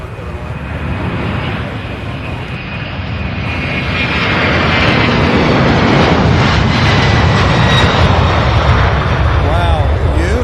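A Boeing 767 jet lifts off, its engine roar building from a steady rumble to a loud, sustained blast of thrust with a rising whine, and a voice speaks over it.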